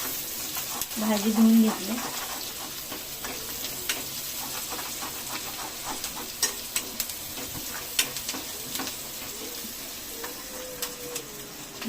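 Ghagri vegetable frying with onion in a pan, sizzling steadily throughout with stirring clicks and scrapes, while someone speaks briefly over it.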